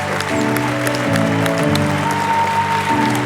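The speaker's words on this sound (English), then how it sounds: "And one last round of applause for our American classics." Applause at an awards ceremony for restaurants and chefs, a dense wash of clapping running under background music with sustained tones throughout.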